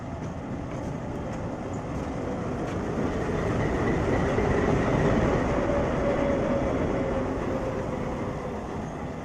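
A WDG3 diesel locomotive pulling a train past a junction, a steady loud rumble and rolling wheel noise that swells toward the middle and holds throughout, with no talk.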